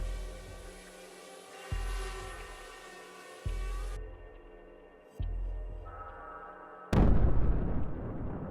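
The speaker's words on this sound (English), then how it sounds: "We see the explosion." Mined tank and armored personnel carrier blowing up in a drone strike near Pokrovsk, Ukraine: a series of four deep booms at steady intervals, each fading away, followed by a final louder, broader blast with rumble.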